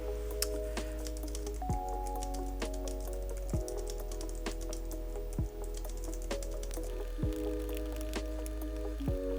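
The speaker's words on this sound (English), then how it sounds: "So the keyboard is working, so let's do some typing test over here." Fast, steady typing on a Logitech MX Keys Mini compact keyboard, a dense run of light clicks with occasional louder key taps, close by and without speech over an ongoing background of music.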